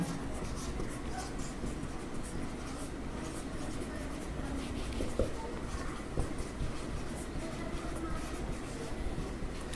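Marker or chalk scratches across a classroom board during a costing lecture, a steady close rasp of continuous writing strokes over a constant background hum, with a couple of faint taps.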